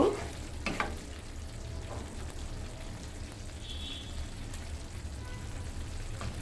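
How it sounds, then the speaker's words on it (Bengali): Rice for a wedding-style vegetable dish is stirred in a cooking pot, a few close scraping strokes at the start, then a steady low simmering bubble and faint sizzle continue quietly. "চালটা একটু নেড়ে দিয়ে এভাবে নেড়ে দিয়ে ঢেকে রেখে দিব"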